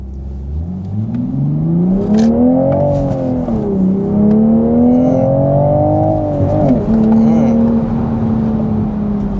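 A manual Toyota Supra MK5 accelerates hard, its engine note climbing steadily through the revs, briefly dipping at a shift, then climbing again loud and close from inside the cabin.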